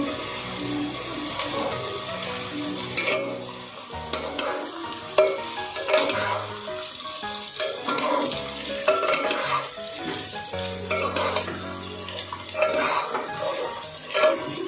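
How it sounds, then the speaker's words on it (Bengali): Potatoes fry for Kolkata-style chicken biryani, a continuous loud sizzle in a pan broken by stirring scrapes and utensil clinks. Faint tonal background sound runs underneath, and no one speaks. "আলুটা প্রায় ভাজা হয়ে এসছে"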